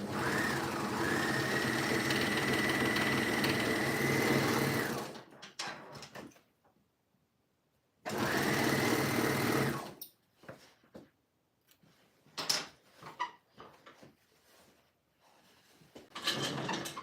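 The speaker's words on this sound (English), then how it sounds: "And now I will take it over to my overlocker." Overlocker serger stitching fabric seams for jeans, running in two loud steady bursts of whirring close by, separated and followed by quiet handling clicks and rustles.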